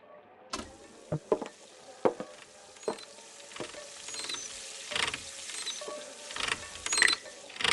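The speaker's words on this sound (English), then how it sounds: "The service elevator." A service elevator riding up in the video game Frequency Missing, heard as irregular mechanical clanks, ratchety clicks and rattles over a low hum, growing busier and slightly louder toward the end.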